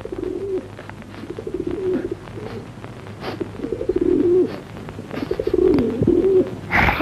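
Pigeons coo in a repeated series of soft, throaty phrases with short pauses between them. They are fairly close and clear over a quiet background, with no speech.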